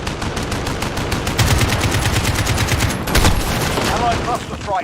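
Rapid automatic gunfire in a first-person shooter game, loud and sustained, dense repeated shots with a heavier burst partway through, a voice briefly heard underneath.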